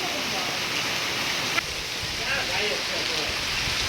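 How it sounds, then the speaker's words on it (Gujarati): A heavy summer downpour falls steadily outdoors, with a dense, unbroken hiss of rain all around and one brief knock partway through. "બીજા દીએ આવો ધોધમાર વરસાદ ચાલુ છે."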